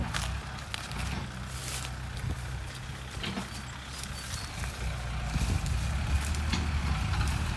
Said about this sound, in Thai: นี่นะคะรถไถ